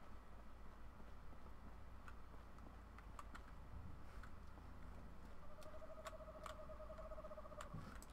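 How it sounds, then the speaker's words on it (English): A screech owl calls in the Fallout 4 video game, a faint trilling whinny over a steady low ambient hum, with a few soft ticks scattered through the scene. "Screech owl."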